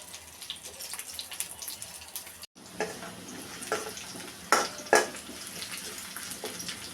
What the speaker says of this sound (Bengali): কই মাছ ভেজে নিচ্ছি।